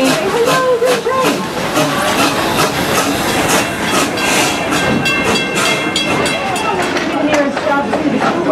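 Busch Gardens Serengeti Express park train rolling along its rails, a steady rumble with faint clickety-clack and hiss, heard from aboard under continuous crowd and narration chatter.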